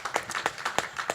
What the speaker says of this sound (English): Round of applause for Broden, please